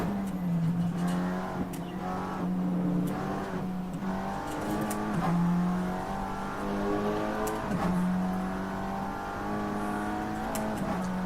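An Aston Martin race car engine roars on the Nordschleife, loud and close, holding a steady throttle with repeated gear changes and brief dips in pitch over a constant drone.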